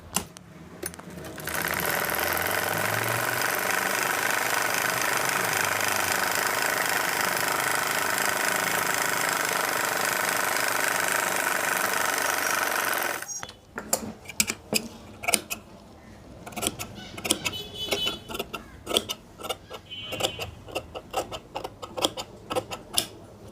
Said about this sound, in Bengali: এই যে নিলাম এখন সেলাই করে দিচ্ছি উপরের সাইড থেকে